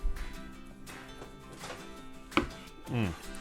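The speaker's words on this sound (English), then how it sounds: "Start slicing it into some thin slices." Cooked beef brisket from an Instant Pot cut into thin slices against the grain, a few soft knife strokes and taps on a board, close and quiet.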